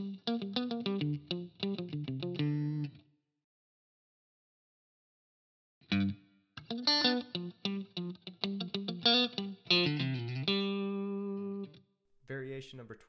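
Electric guitar runs through effects, playing a line built on chord tones with slides into the third, in two phrases of clear plucked notes split by a silent gap, the second ending on a sustained chord.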